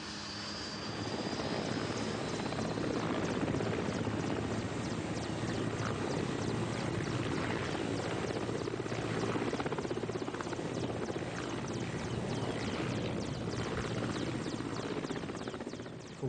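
Old military helicopter flown by the private company Kretchet, roaring continuously in flight over Kamchatka, Russia; loud, steady rotor and engine drone heard from inside the aircraft throughout, with no speech.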